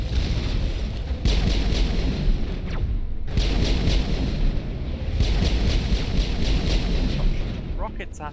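Rocket blasts pound the player in Mass Effect, a heavy sustained roar of booming explosions and rumbling fire with brief pauses between volleys, loud and close.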